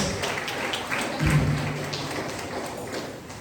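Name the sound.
audience round of applause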